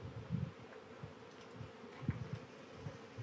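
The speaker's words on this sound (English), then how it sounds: "The bees come off." Bees from a queen-rearing cell builder hive buzzing softly and continuously, with a few louder passes close by, faint and without talk.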